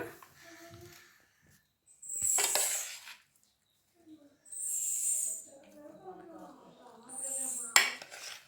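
Curd rice being mixed in a metal vessel with a spoon, giving three separate bursts of scraping and clinking against the pot, separated by quiet gaps, with someone speaking softly in between.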